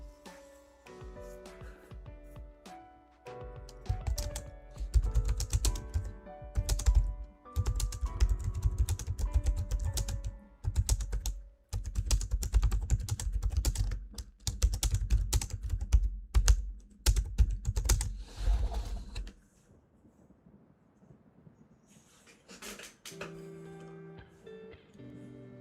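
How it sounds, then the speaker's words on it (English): Rapid, uneven clacking of keys on a computer keyboard, close and fairly loud in dense bursts, pausing briefly near the end before a few more strokes, with no one talking. "it's me typing away to you right here."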